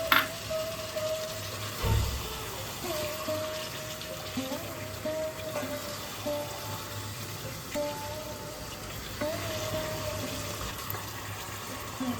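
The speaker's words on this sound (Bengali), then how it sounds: "এবার আমি মশলা বাটা ধোয়া জলটা দিয়ে দিচ্ছি।" Spice-paste washing water poured into chicken curry in a pan, a faint soft trickle and splash under quiet kitchen background noise, with a brief louder knock near the start.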